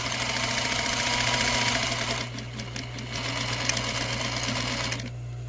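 A sewing machine stitches a Belgian-style fabric face mask with a loud, close, rapid mechanical whir that briefly eases, resumes, then cuts off near the end.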